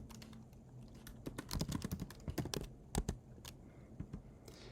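Quick bursts of typing on a computer keyboard while entering commands in a terminal, with close, irregular clicks that cluster into busier runs in the middle and no voice.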